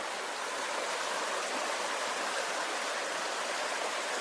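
A river flowing close by gives a loud, steady broadband rush of water with no pauses and no voices.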